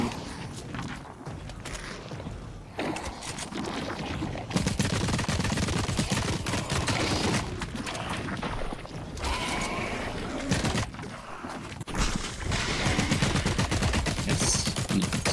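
In the video game The Cycle Frontier, SMG gunfire comes in several rapid bursts with pauses between them, mixed with in-game footsteps and movement at a moderate level.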